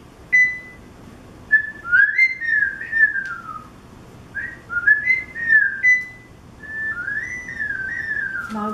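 A person whistles to mimic a bird song, a series of clear, sliding, warbling phrases with short gaps between them, close and fairly loud with no talk.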